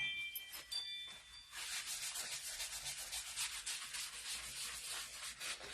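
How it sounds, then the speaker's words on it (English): A cloth buffs a rubbed-in finish off a wooden sign decorated with a transfer, giving steady, close, dry rubbing strokes that start after a brief quieter moment and continue without talk. "So I've just rubbed this in, and now I'm going to buff it off."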